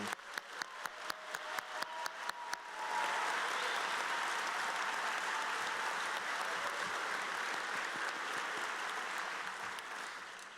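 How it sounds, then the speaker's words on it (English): A few evenly spaced claps from one person lead into a full burst of audience applause at a white coat ceremony, a dense, steady roar of many hands that holds and then slowly fades. "can I get one round of applause for the class of 2022?"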